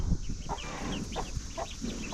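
On a farm, a mother hen clucks softly beside newly hatched ducklings, with repeated short, close clucks in an uneven rhythm over a steady background hum and no speech.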